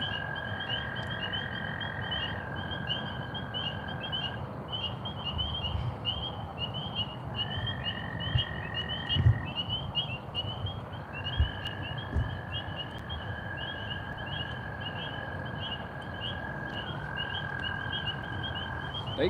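Frogs croak in a steady, pulsing chorus through the night air, with long sustained trilling calls rising and cutting out over a constant background of insect-like buzzing and faint rustles.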